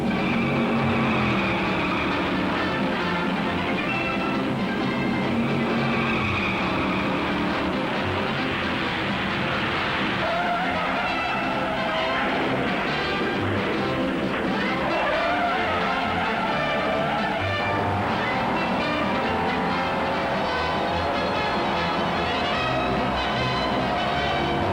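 Loud, continuous roar of 1957 stock car engines at the Darlington Southern 500 race, with passing cars and shifting tones, steady throughout with no talking.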